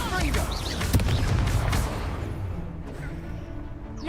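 A Confringo fire blast spell in Hogwarts Legacy bursts with a booming crack and crashing impact early on, then fades into rumbling combat noise as a voice talks over it.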